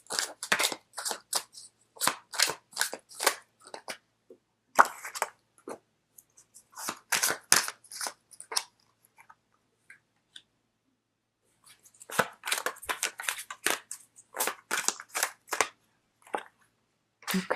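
Tarot cards are shuffled and drawn from a deck in crisp, close flurries of papery snaps and slides, with bursts separated by short pauses, and no talk over them.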